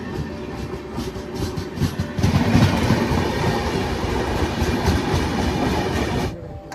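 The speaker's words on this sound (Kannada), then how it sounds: "ಸೊ ಇದು ಬಂದು ವಿಶಾಖಪಟ್ಟಣಂ ನ್ಯೂ ಡೆಲ್ಲಿ ಟ್ರೈನು" The Visakhapatnam–New Delhi train passes close by at Nagpur, its wheels clattering in a loud, continuous clickety-clack that swells midway and then cuts off sharply near the end.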